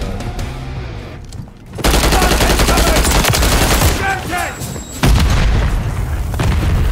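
Video game combat roars loud and close, with booming blasts that may include a grenade explosion and a dense rattle of gunfire. The noise swells sharply near the start and again later, with no clear speech.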